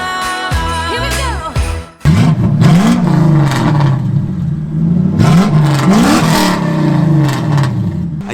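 A Lexus LS400 engine revs hard several times in close succession, the pitch swooping up and falling back between blips, loud and close with no talking over it.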